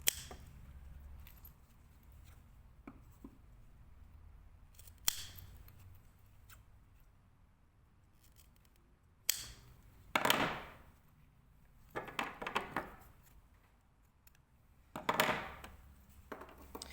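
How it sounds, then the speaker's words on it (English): Scissors trimming zip ends to width while preparing a zipper for a pencil case: a handful of sharp, isolated snips spread out over a quiet room tone, some single and some in quick pairs. "I'm just going to trim these"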